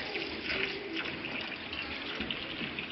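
Spa water flows from a tap at the Roman Baths in Bath, a steady close splashing stream with faint background murmur and no clear talk.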